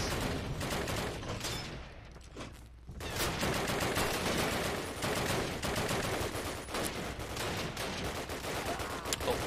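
Rapid gunfire in the World War II shooter game Call of Duty, with dense bursts of automatic fire and overlapping shots crackling almost continuously, loud and close, after a brief quieter gap early on.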